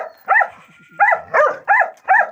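A heavy-boned male Gultair dog barks five times in deep, evenly spaced woofs, loud and close, with faint whimpering sounds between the first barks.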